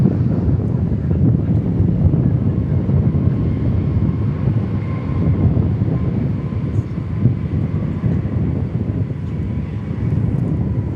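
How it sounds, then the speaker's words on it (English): A United Airlines Airbus A321 arriving at DFW Airport in gusty south winds makes a steady, broad low roar, continuous and fairly loud, mixed with wind buffeting on the microphone and no voices. "As we check out this United Airlines Airbus coming in from the west."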